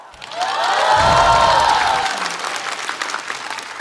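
A studio audience at a stand-up comedy show breaks into applause as a comedian is welcomed onstage. The clapping swells loudly within a second, peaks, then tapers off into scattered claps and crowd murmur.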